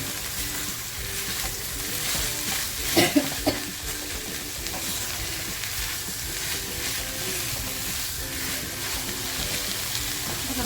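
Mutton sizzles and fries steadily in a pan for several seconds, with a few louder bubbling bursts early on and no talking.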